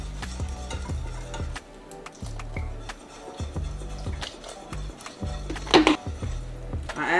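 Whisking egg batter for fried chicken in a bowl, rhythmic clinking and stirring strokes repeating every half second or so, close and moderately quiet, with a brighter scraping clatter near the end.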